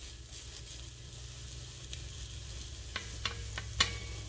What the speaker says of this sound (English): Start sizzling.